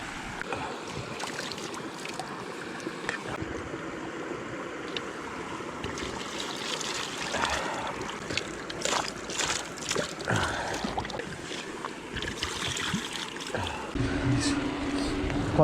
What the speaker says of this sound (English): So, took it into the bike wash, which is here.